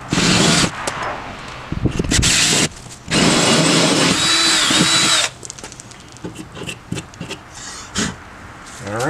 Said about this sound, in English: it's time to drill straight through with the hole saw.